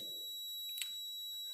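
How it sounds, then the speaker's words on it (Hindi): A digital multimeter beeping on continuity while its probes touch the bared ends of an intact wire: a constant high electronic tone running throughout, with one small click partway through and no talking. "आप देख सकते हैं बीप का साउंड आ रहा है"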